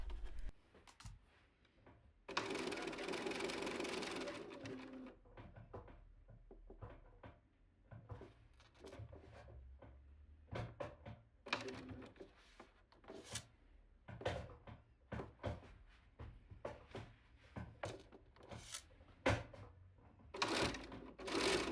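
A domestic sewing machine stitches a pocket on a vanity case in a short whirring run. Many separate clicks and knocks follow as the presser foot is lowered and the fabric is adjusted, all close by and fairly quiet.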